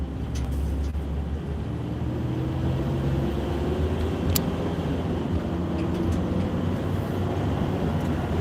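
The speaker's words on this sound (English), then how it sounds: "I was wondering what that freaking noise was. It's the truck next to me." A loud, steady engine rumble from a truck idling close by, a deep continuous drone with a faint hiss.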